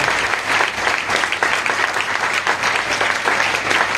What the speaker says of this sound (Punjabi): ਸਾਰੇ ਲੈ ਲਓ, ਤਾਲੀਆਂ ਕਰਨਾ